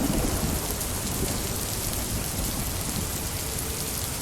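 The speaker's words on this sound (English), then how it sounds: "A random rainstorm." A rainstorm with thunder, generated as a weather effect in the GAIA Pro terrain tool, sounds as dense, steady hissing rain with a low rumbling undertone throughout.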